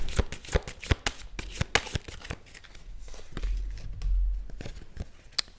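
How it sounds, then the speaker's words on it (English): Tarot cards shuffled by hand at close range, a quick run of crisp riffling slaps and flicks with brief pauses, followed by softer rustling and shuffling. "I'm going to just do a quick shuffle here and then we'll pull some cards"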